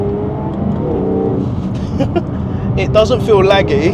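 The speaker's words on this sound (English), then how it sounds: "Let's just smash the throttle." A supercharged Jaguar F-Type engine pulls hard at full throttle from about 40 mph, its steady, rising drone running under someone talking from inside the car.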